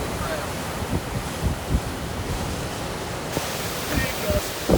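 Strong hurricane wind from Hurricane Idalia in Perry, Florida roars as a broad, steady rush with buffeting gusts against the microphone, loud and continuous throughout.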